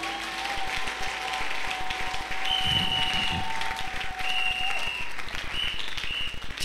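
Church congregation applauding and cheering the Lord during a morning service, a steady wash of clapping and crowd noise throughout with a sustained musical tone underneath.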